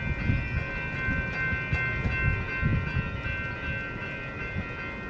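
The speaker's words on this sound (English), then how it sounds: "We got the train coming." A train rolls past a street location in Pasadena, a steady loud rumble with sustained tonal whine and faint rhythmic clatter throughout, close by, no voices.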